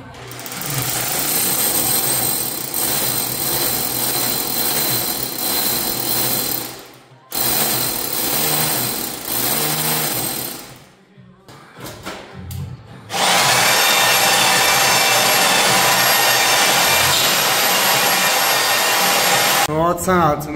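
A power drill bores holes through a wall during a flat renovation, grinding loud and steady in long bursts with a brief pause, then a sharper high-pitched whine to the end; no talk.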